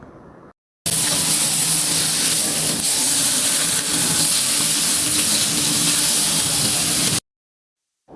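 Chicken for Lombok-style ayam taliwang sizzles loudly in a pan with ground spice paste, a dense, steady hiss that starts abruptly and cuts off after several seconds.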